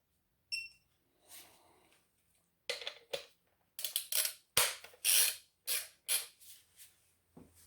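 Torque wrench tightening a Hella H4 headlight housing on a Datsun 240Z, a series of sharp close clicks, a couple of isolated snaps then about eight rapid ratcheting clicks in quick succession, with no talking.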